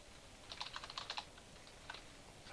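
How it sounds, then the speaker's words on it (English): Keys on a computer keyboard are typed in two short, quiet bursts of rapid clicks at close range, separated by a pause. "If I could type."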